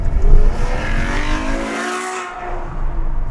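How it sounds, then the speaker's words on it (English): A Ferrari F12 Berlinetta's naturally aspirated V12 roars loud and close, revving hard with rising and falling engine pitch as the car is driven flat out. "Ferrari are really proud of the fact that they still make an atmospheric V12 engine."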